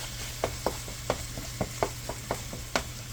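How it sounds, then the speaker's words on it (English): Budget Steak-umm sliced beef frying in a skillet with rice, a soft constant sizzle broken by about ten sharp spatula taps and scrapes at an uneven rhythm. "we're going to fry this up until it's more done"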